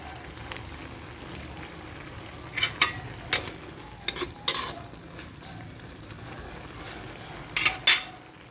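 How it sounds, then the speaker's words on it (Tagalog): Ground pork or beef sautéing in a pan for Filipino palabok sauce, a low steady sizzle with a few sharp clinks and scrapes of a spoon stirring against the pot, fairly close, no talking. "kumukulo na at medyo nagisa na ng maayos ang ating giniling"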